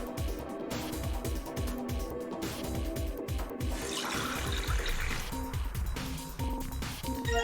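Water pours into a beaker in the video game Virtue's Last Reward, a soft running trickle under a rhythmic, pulsing game music backdrop, swelling briefly into a brighter splashy rush midway.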